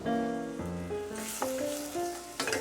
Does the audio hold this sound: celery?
yes